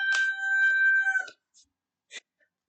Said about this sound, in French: Mon coq qui est juste à côté.